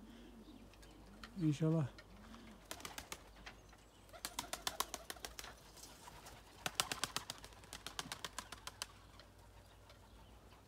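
Young pigeons warming up their wings, with bursts of rapid wing flapping and a few soft coos, someone speaking briefly over them.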